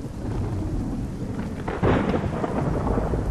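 Steady rain pours down in Vapi, Gujarat, a constant hiss, with a sudden deep rumble of thunder breaking in about halfway through and lingering; no voices.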